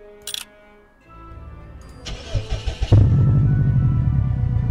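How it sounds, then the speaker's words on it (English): A car engine starts in a snowy mystery video game, giving a brief click, then a cranking whir and a loud, sustained jet-like roar that holds steady to the end. "Sounds like a jet engine."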